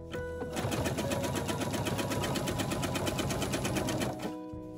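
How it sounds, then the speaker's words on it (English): A sewing machine stitching a quilt binding with a 3/8 inch seam, a fast even run of close mechanical stitching that starts, holds steady for about four seconds and stops. "I start sewing with a 3/8 inch seam again"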